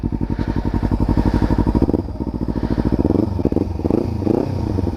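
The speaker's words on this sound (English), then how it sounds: "Whoa, hear that engine." A Kawasaki Ninja 300 with an Akrapovic exhaust, its noise killer removed, idles and blips close by, a steady deep pulsing throb that swells into short rising revs and settles back again.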